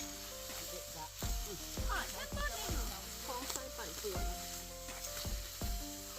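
Pork sizzles steadily on a hot Thai grill pan while people talk nearby, with soft clinks and scraping sounds now and then.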